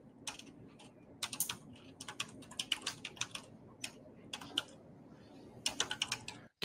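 Fingers tap away at a computer keyboard in quick irregular bursts of light clicking, with short pauses between runs of keystrokes, close and fairly quiet, no speech.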